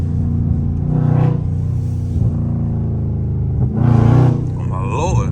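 A Dodge Scat Pack's engine rumbles loudly and revs up through a first-gear pull, with rising whine and surges of power, close by.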